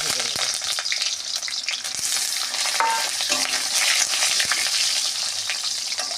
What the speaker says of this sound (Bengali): বিরিয়ানির আলুটা ভেজে নেব